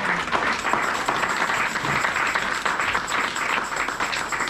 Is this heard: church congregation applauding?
yes